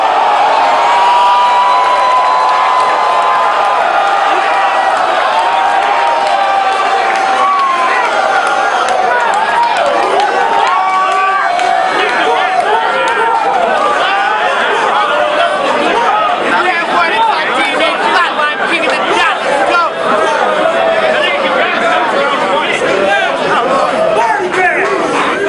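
A large crowd at a video game awards show cheers, whoops and chatters in a continuous loud roar, with voices rising and falling in the babble throughout.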